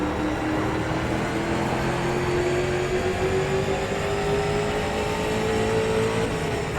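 Street stock race car engines at Martinsville in iRacing, a loud continuous engine drone with a slowly rising pitch as a car holds the throttle down the straight, steady and close throughout.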